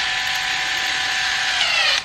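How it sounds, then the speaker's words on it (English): A power drill bores a small hole through a motorcycle tour pak, a steady high whine running about two seconds before it cuts off abruptly, heard up close. "Alright, so we got our drill and everything."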